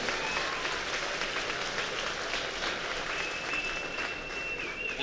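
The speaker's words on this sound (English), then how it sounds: "Once again, please give Cordell and his family a round of applause." Steady crowd applause fills a school gym during a boys' basketball senior pre-game recognition, a continuous even wash of clapping with a faint whistle-like tone partway through.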